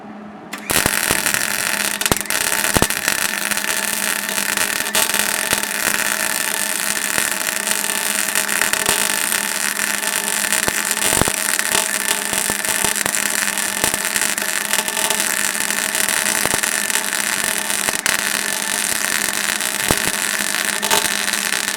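A welding bead is laid on a steel motorcycle hitch rack, a loud, steady crackling hiss that starts abruptly and runs continuously for about twenty seconds with occasional sharper pops.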